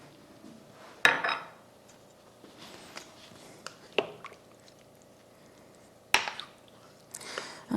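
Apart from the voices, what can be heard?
stirring meatballs in a crock pot with a big spoon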